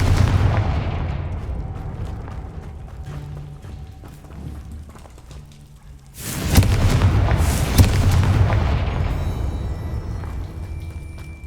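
Confringo fire spell cast in Hogwarts Legacy, a loud explosive boom bursting in around the midpoint after quieter combat effects, followed by a sustained rumbling roar with scattered crackling impacts.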